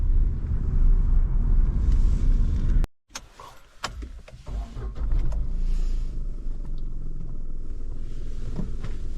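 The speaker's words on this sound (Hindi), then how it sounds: "फोर्थ गियर है, 39-40 पे चल रही है गाड़ी और आरपीएम देखिए 1000 पे है।" A Tata Nexon climbing a gentle slope in fourth gear at about 40 km/h and low revs, with a steady low engine and road rumble from inside the cabin, a brief dropout, then a continuing drone.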